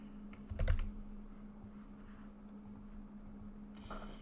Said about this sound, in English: let me type it out for you